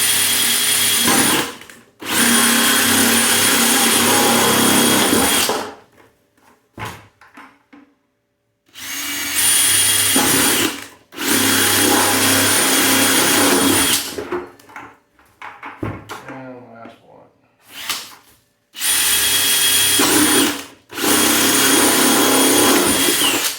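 A power drill runs in reverse to drill holes for swarm traps, whirring loud and close in several long bursts separated by pauses with faint handling noises.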